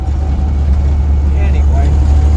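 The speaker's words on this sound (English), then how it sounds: "I wonder why third gear's making noise." Interior drone of a 1966 Land Rover 109 six-cylinder driving in third gear with a noisy gearbox: a loud, constant low rumble close up, with a faint whine riding over it.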